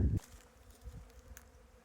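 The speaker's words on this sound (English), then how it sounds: "I hear bees." Bees buzz faintly around a flowering desert tree during a hike, a soft, low, intermittent drone following a brief louder knock at the start.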